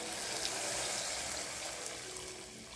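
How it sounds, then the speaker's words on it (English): Water runs steadily into a cooking pot in a home kitchen, added before rice goes in, a continuous close hiss and splash with no talking. "We add some water at this point for enough for the rice that we are going to put."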